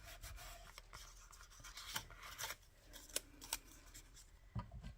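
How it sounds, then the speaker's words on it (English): Scissors make a quick run of crisp snips and rubbing rustles as paper is trimmed for a photo pocket, faint and close with no voices. "trim it off a little bit"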